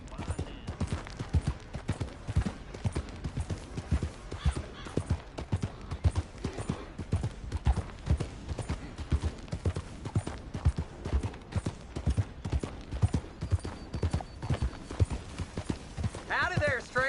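Horse hooves clip-clopping steadily in the video game Red Dead Redemption 2, a rapid continuous trotting rhythm, close and prominent throughout, with a character's voice and other game sounds mixed in.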